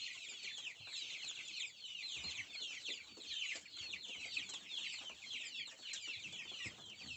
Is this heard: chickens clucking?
yes